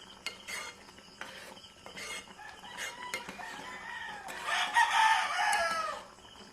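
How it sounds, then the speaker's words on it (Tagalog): Chickens cluck around a yard while a rooster lets out a loud, drawn-out crow near the end, standing out over faint background clatter. "Hilaok sa manok guys."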